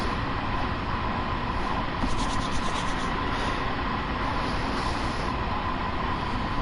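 A Long Island Rail Road M7 electric train in Train Sim World coasts down a gentle downward gradient at night, a steady, loud rolling rumble of wheels on track with a constant droning hum throughout.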